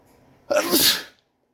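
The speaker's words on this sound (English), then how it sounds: "And I'm going to sneeze." A single loud sneeze bursts out after a moment of near silence, sharp and close, then cuts off abruptly.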